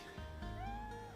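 A cat meows in the Chrono Cross video game, one sustained, rising mew lasting about a second over a steady low game-music hum, with no voices over it.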